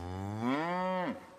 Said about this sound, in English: grazed by their own Highland cows and sheep